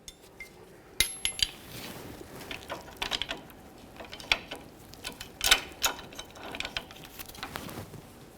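A 22mm wrench tightens the tie rod jam nut against the outer tie rod end on a 1999-2006 Chevrolet Silverado 1500, giving sparse, close metallic clicks and clanks spread irregularly across a quiet background.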